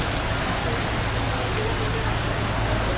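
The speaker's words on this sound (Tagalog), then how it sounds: "Maulan na. Lakas ng ulan." Heavy rain pours steadily on a hillside pilgrimage site in Lucban, Quezon, Philippines, a dense even hiss of downpour close by with faint voices in the background.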